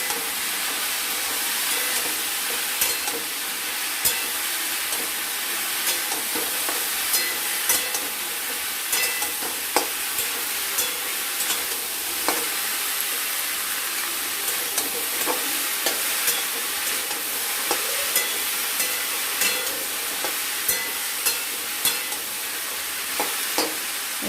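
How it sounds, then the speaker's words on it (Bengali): Small chela fish with turmeric and salt crackle and hiss in a hot pan, a steady bright frying sizzle broken by frequent sharp clicks and scrapes as they are stirred, close and continuous with no voices. "দিয়ে এটাকে আমরা নাড়াচাড়া করে নেব।"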